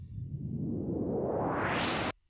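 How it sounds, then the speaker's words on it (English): A riser effect built from white noise on a Moog synthesizer sweeps steadily upward in pitch for about two seconds, growing brighter and hissier before cutting off abruptly into silence. "And the last sound is this riser"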